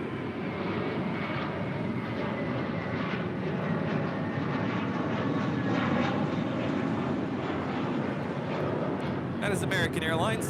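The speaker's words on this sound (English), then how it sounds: "That is American Airlines Flight 2 departing to JFK on an A321." An American Airlines Airbus A321 jet departs LAX for JFK, its engines a loud, sustained roar with a broad rumble, steady throughout and rising slightly near the end, with voices faintly beneath.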